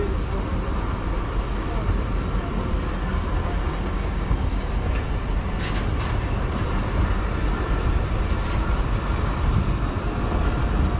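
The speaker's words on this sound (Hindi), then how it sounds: "तो 2 मिनट ड्यू स्टॉपेज के बाद गाड़ी अपनी अगली मंजिल लकी शाह सदर की तरफ रवाना" Train pulling away from Amri railway station in Pakistan after a two-minute stop, a steady loud rumble of wheels and rail noise running continuously throughout.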